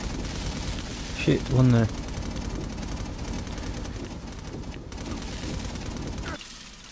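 Auto turrets fire in the video game inFAMOUS Second Son, a steady rattle of gunfire running under a man's brief spoken remarks before cutting off near the end.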